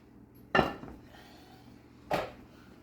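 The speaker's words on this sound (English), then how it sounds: "We'll put our lid on." Lid set onto a pot of venison stew, giving two sharp metallic clanks a second and a half apart, close and clear over a quiet kitchen.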